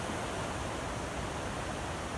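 Water flows steadily beside a stone pathway in a garden after rain, giving a soft, continuous rushing hiss with no voices.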